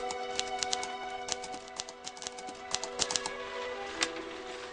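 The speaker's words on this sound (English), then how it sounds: "I am just on the grisly job of typing out my novel." Keys of a typewriter clack in irregular bursts, close and steady, with sharp individual strikes over a faint constant hum.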